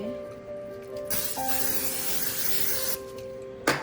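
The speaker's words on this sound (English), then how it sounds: "now I'm gonna spray my pan with Pam." Pam cooking spray hisses steadily onto a baking pan for a few seconds, a close, continuous aerosol spray with a short pause partway through, then stopping.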